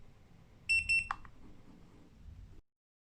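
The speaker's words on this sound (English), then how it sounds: "hold set until you hear 2 beeps to exit" A Mata T2 tire pressure monitor gives two short, high electronic beeps in quick succession, clear and close against a quiet background, followed by a faint click.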